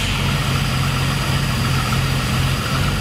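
A 1970 Dodge Challenger engine idles in cold weather, held up on a little throttle. It makes a loud, steady, close rumble with an even low throb throughout.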